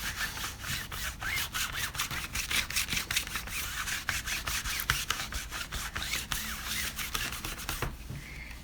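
A cloth or wipe scrubbing paint over a textured paper craft background laid over Distress Crayon, a loud, close series of rapid rubbing strokes that stops abruptly just before the end.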